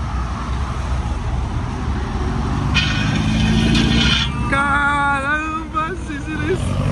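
Many cars drive slowly out of a Volkswagen enthusiast event, engines and tyres rumbling steadily nearby while people talk and shout over the traffic throughout.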